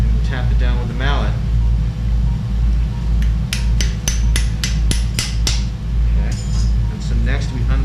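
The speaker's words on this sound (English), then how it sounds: "And we'll tap it down with the mallet." Sharp metallic taps from a mallet driving a suture anchor during arthroscopic Bankart shoulder surgery, about eight quick strikes in a steady row, close by over a constant low hum, with some talking before and after.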